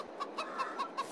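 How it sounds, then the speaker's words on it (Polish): Chickens clucking nearby on a farm in a quick, regular series of short calls, about five in a second, with no talking. "Tu sobie kury chodzą."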